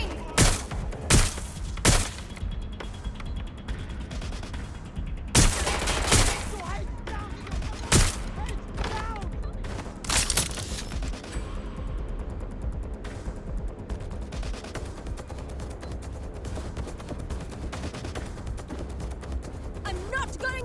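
Gunfire in Watch Dogs: Legion: several sharp, loud shots crack in quick clusters early on, then the firing thins out over a steady background din, with voices talking in between.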